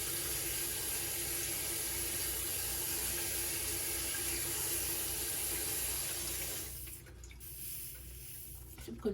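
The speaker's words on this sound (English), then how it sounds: "So I'm rinsing them off." Cooked saffron noodles rinsed under a steady stream of cold tap water in a sink, a continuous close splashing rush that cuts out near the end, leaving quiet kitchen sounds.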